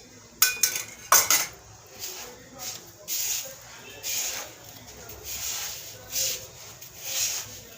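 A small metal spoon clinks and scrapes against a container while scooping ghee for basbousa, with two sharp clinks early on and then softer rhythmic scraping and rubbing.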